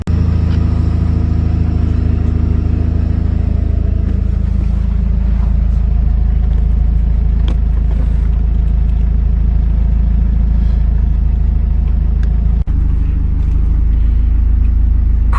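A heavily modified Hyundai Genesis Coupe with a 2.0 Theta I4 engine runs steadily and loudly close by, with a constant deep engine drone and a single sharp knock near the end.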